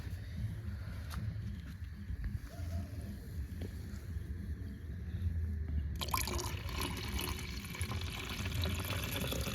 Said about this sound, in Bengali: ঢালতে হালকা করে ঢালতে হবে